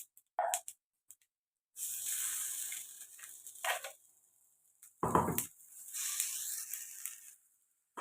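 Hot oil with mustard seeds and urad dal tempering hisses and sizzles in loud bursts as chutney goes in, the sizzle surging and fading in several waves, close and alone.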